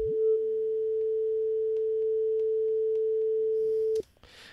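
A pure sine tone runs through Bitwig Studio's Resonator Bank, holding a steady, clean pitch after a brief upward sweep. It cuts off sharply near the end, leaving a short noisy tail.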